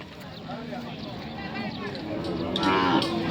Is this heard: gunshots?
no